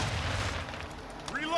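A grenade blast in Call of Duty: Modern Warfare II lands as a loud, broad boom that quickly fades into rumbling gunfight noise, with a voice briefly shouting near the end.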